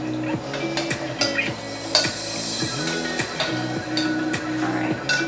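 A spoon stirs sugar into a blooming yeast mixture for everything bagels, scraping and clinking against the bowl in a steady repeated rhythm of close, distinct strokes with no talking.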